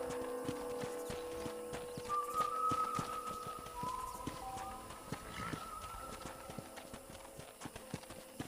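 A horse's hooves clip-clop steadily on the ground in a video game, a continuous walking rhythm under background music and ambient hum.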